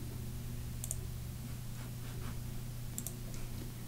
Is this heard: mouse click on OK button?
yes